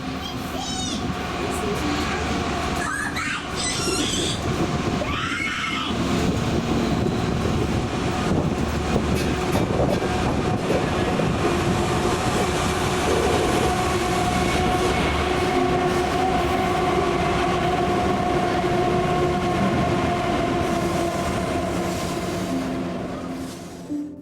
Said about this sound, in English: The final train we would catch on this evening would be a westbound hotshot intermodal.